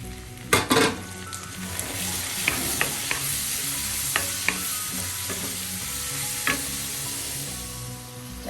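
Torn onions sauté in a pan with a steady frying sizzle, while a utensil stirs and scrapes in sharp clicks and knocks scattered across the stretch. Nobody speaks.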